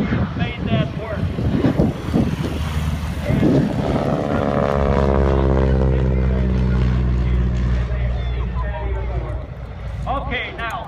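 A WWII advanced trainer aircraft takes off at the EAA AirVenture Oshkosh 2015 airshow, its loud, steady piston-engine drone building and holding for several seconds under continuous commentary and wind buffeting.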